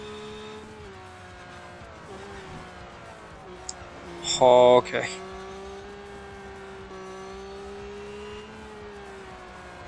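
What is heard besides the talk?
race car engines in the video game Real Racing 3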